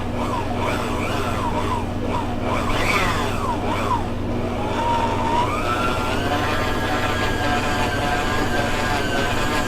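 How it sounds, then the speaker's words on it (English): A stand mixer with a paddle attachment kneads soft mango bun dough at medium speed, giving a steady, loud, close motor whine and hum that wavers early on, then climbs in pitch and holds. No voices. "we're going to mix this with the paddle attachment for 2 minutes"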